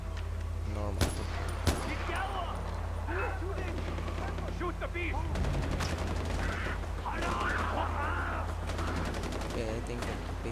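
Gunfire rattles in the Far Cry 4 video game, with two sharp shots early on followed by bursts of rapid fire and a low rumble, while a person talks over much of it.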